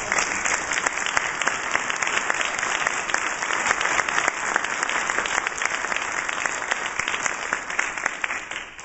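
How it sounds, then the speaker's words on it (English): An audience at a ceremony applauds with dense, sustained clapping that stays loud and even throughout. "I wish that you would join me in giving them a round of applause."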